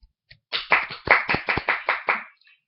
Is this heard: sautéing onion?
no